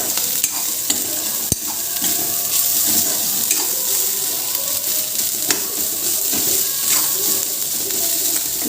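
Sweet corn fries in hot oil in a home kitchen with a steady, dense sizzle and a stirring clatter, loud and close throughout.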